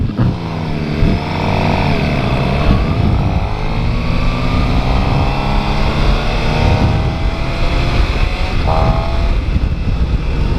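A 2015 Suzuki GSX-R 600 sport motorcycle engine revs hard, loud and close, with rising pitch sweeps as it winds up and shifts, over steady wind noise.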